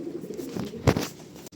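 Kept pigeons coo softly nearby, low throaty burbles swelling briefly in the middle amid faint room noise.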